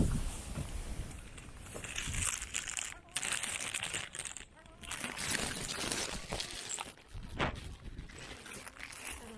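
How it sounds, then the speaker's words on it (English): Strong gusty late-January wind in a garden roars and buffets the microphone, rising and falling in surges, with some rustling and faint movement sounds underneath. "it's late January and it's very windy today"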